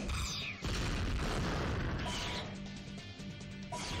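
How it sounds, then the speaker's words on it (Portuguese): A mega explosion attack in the video game Mega Man X7, a heavy booming blast that rumbles loudly across the whole span with crashing bursts layered over game music. "Quando a gente aperta triângulo, a gente faz esse ataque da mega explosão"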